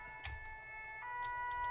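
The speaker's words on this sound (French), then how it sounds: "Donc c'est une alarme pompier parisien." Paris fire brigade siren wails from a fire truck in the Farming Simulator 17 game, steady sustained tones at moderate volume with a few brief clicks, and no talk.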